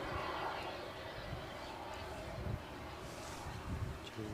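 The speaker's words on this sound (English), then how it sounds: "on the centre line currently we do have a Jet 2 737 and it sounds like they're going full thrust" A Jet2 Boeing 737 spools up to full takeoff thrust at Edinburgh Airport on a windy day, a broad, distant jet roar blended with gusting wind noise, steady throughout.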